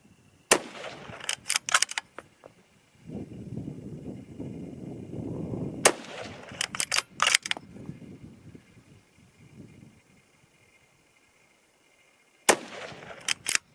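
6.5 Creedmoor rifles from Seekins Precision and Christensen Arms fire sharp, loud cracks in a few clustered bursts outdoors at a range, with quiet gaps and rustling handling noise between shots.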